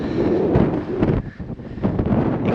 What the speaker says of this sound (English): You can't hear me because it's windy.